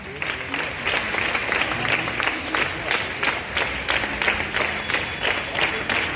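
A school gathering claps for a small boy on his birthday: dense, lively applause from many hands that keeps a steady, rolling rhythm throughout, close and fairly loud, with no talk over it.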